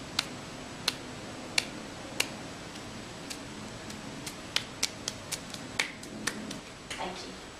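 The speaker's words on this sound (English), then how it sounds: "start clapping" Sharp, separate claps repeating at a quickening pace during an upper limb motor examination as a hand claps against the other palm while turning over, fairly close and clear with a quiet room behind.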